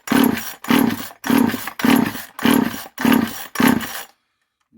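Seven quick, evenly spaced recoil-cord pulls on a 1977 Poulan micro chainsaw found in a barn, each a loud, close rasp, with the engine never firing and silence afterward.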